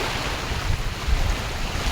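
Sea waves wash steadily onto a beach, a continuous broadband rush with gentle surges, heard alone with some wind buffeting the microphone.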